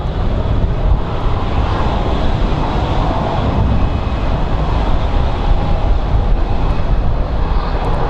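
A small feeder airplane comes in to land at Phoenix Sky Harbor airport, its engine a loud, continuous roar that holds steady throughout.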